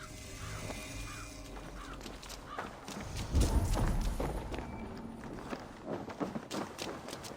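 Horse hooves pound the ground at a gallop in the Assassin's Creed Valhalla game, a fast, close drumming that grows louder in the middle over faint ambient noise.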